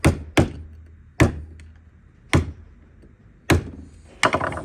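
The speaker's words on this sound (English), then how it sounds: "using our snap-on screwdriver chisel, we're just going to tap out the tab washers" Hammer blows drive a Snap-on screwdriver chisel against tab washers on a Hillman Imp steering rack: six sharp, loud metallic knocks spaced irregularly, each ringing briefly, with no talking.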